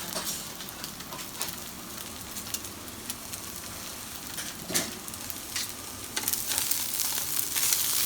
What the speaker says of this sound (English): That's just water, so it's gonna sizzle.